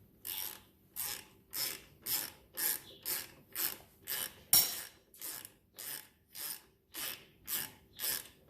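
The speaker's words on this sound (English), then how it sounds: "Here's our 14mm socket time." A ratchet fitted with a 14 mm socket works on a 1999 Kawasaki Vulcan 1500 Nomad motorcycle, giving about fifteen even, rhythmic strokes of clicking, close and clear with no voices.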